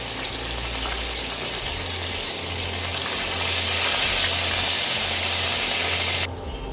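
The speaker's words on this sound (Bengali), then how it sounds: "আমি তেলের মধ্যে আদা রসুনটাকে 2 মিনিট ভেজে নিছি।" Ginger-garlic paste frying in hot oil gives a steady, loud broadband sizzle and hiss with a low hum underneath, continuous for several seconds before dropping slightly near the end.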